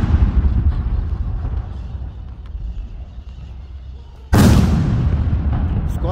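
A 155 mm howitzer of the Brazilian Army fires a salute round during an honor-guard reception for the Army commander at a sergeants' school: one sudden, loud, heavy boom with a lingering roll that breaks a steady outdoor rumble.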